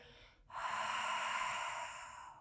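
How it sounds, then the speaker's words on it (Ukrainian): Deep, slow exhale during yoga breathing practice: after a brief pause, one long, steady, airy breath out close to the microphone lasts about two seconds and fades gently at the end. "Звичайний глибокий видих."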